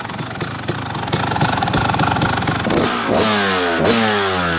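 A 1996 Kawasaki KX250 two-stroke motocross bike revs loudly and close, its crackling, buzzy engine rising and falling in pitch through repeated throttle blips.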